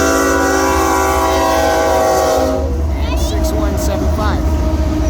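A BNSF freight train sounds a loud, sustained multi-tone horn as it passes the USAF Academy crossing, then its heavy rumble continues as the horn cuts off. A voice is heard over the passing cars.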